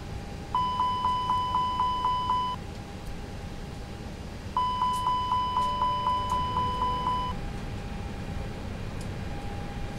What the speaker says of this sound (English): Check our fire alarms.